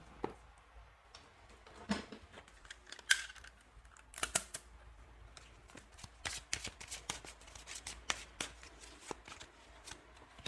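Oracle cards shuffled close up in a series of quick riffling, crisp snaps and slides, irregular bursts repeating throughout with no voices.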